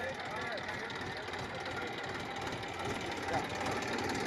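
Massey Ferguson 1035 tractor stuck in a sticky muddy field, its engine running in a steady, continuous drone, with people talking over it.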